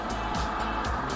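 City car traffic rolls past on a road, heard from an electric fat bike during a ride, a steady low rumble with brief swells as vehicles go by.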